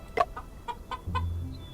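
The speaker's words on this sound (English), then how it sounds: "Free-range chickens or walking chickens have delicious meat due to their ample" Free-range chickens cluck in the detective game Murders on the Yangtze River, a few short, close clucks in quick succession with a low thump underneath near the end.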